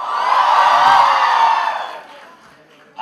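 A university audience in Mumbai cheers and whoops loudly for about two seconds, the crowd noise swelling and then dying away, with a voice briefly cutting in at the very end.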